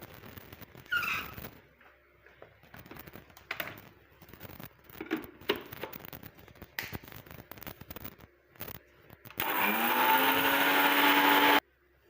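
Mixer grinder powdering curry leaves, black cumin and fenugreek in a dry jar: scattered clatter and shuffling, then a loud steady whirring motor run of about two seconds near the end.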